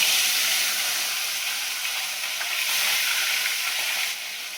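Live fish dropped into plenty of very hot oil fry with a loud, dense hiss and crackle that holds steady for several seconds, then eases slightly near the end, with no voices.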